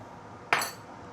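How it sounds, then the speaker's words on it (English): A utensil knocks once against a pot of braised fish head with spring onion and thickened starch sauce, off the heat: a single bright metallic clink that rings briefly and fades. "Give it the last few stir."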